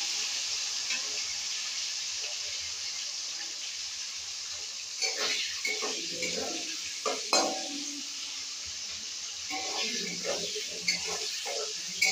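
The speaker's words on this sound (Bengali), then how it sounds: "এবার আমি বড় বড় টুকরো করে যে পেঁয়াজগুলো কেটে রেখেছি ওগুলো ভেজে তুলে নেব।" Large-cut onion pieces frying slowly over low heat in a pan, a faint steady sizzle with occasional soft stirring scrapes and clinks toward the middle and end.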